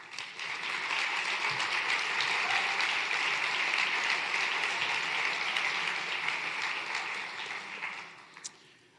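Audience at a summit opening plenary applauds, a dense, steady wash of clapping that holds for about eight seconds before tapering off with a few last claps.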